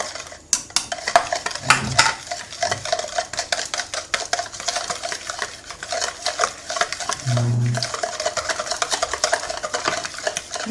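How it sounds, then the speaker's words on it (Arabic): A spoon stirs yeast with sugar and milk in a bowl, clinking and scraping in quick irregular strokes close by, with a few louder knocks of utensil against the dish. "نحرحروا هذه الخميره مع السكر، نزيدوا لها هذوك 3 مغارف تاع حليب"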